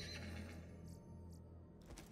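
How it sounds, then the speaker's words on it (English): A drawn weapon in Borderlands 2 lets out a quiet, brief horse-like neigh and whinny, set against a low game hum with a soft rush of noise at the close. "This thing keeps neighing whenever I pull it out."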